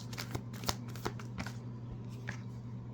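Tarot cards are shuffled with quick, soft riffling flicks in a rapid irregular rhythm. The sound is close and quiet, with a low steady hum in the background.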